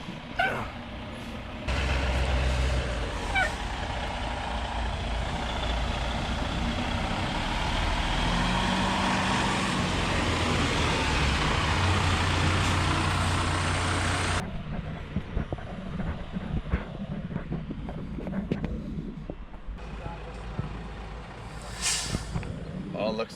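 Truck idling and rumbling on an outdoor soil work site, a steady low engine drone for about thirteen seconds before it drops away to quieter site noise with scattered knocks; voices are faintly present.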